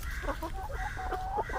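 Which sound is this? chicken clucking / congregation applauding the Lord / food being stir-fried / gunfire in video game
chicken clucking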